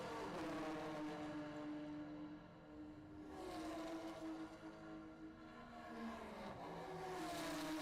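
A Porsche race car engine drones at a vintage race, its pitch shifting as it accelerates and passes, heard at moderate distance with other cars.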